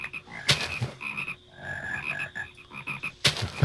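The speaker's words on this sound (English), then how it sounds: "those frogs need to stop." Frogs croaking in Harvest Mine, a farming video game, a chorus of repeated rhythmic croaks close and fairly loud, with no talking.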